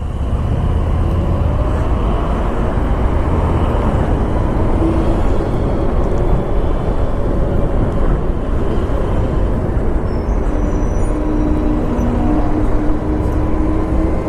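A BMW CE 04 electric scooter's motor gives a steady whine while riding, heard alongside continuous loud road and wind noise, with no talking.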